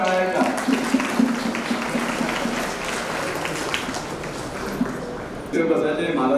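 Audience applause at a Guru Purnima festival, a dense burst of clapping that fills the whole stretch at steady strength and swells slightly near the end, with a voice over the clapping at times.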